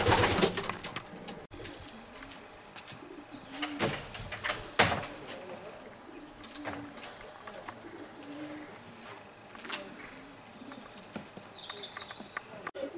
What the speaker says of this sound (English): the birds look well comfortable in here